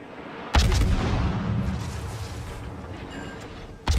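Naval gunfire in the World of Warships video game: a heavy boom opens a sustained rumbling roar that slowly fades, then a second sharp blast strikes at the end, with no one talking.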